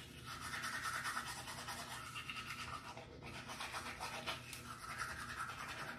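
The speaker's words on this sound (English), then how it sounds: "Don't mind the toothbrush, cuz." Close-up toothbrush scrubbing teeth, a steady rasping brush sound that keeps going for the whole stretch with small surges in rhythm and no talking.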